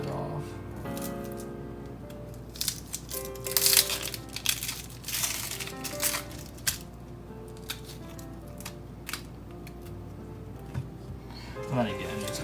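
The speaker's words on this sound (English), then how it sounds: "Peel the rest of it off." Dry papery onion skin peeled off by hand, giving close crinkly crackles and soft tearing rustles in scattered bursts, louder in the middle, with a voice speaking over parts of it.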